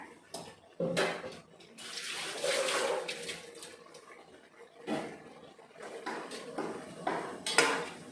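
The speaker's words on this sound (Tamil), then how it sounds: "கொஞ்சமாக மட்டும்தான் நான் அலசி ஊற்றுறேன்" Rinse water splashes and pours into a metal pot while cooking veg tehari, with clinks of cookware and short bursts of running water, close by.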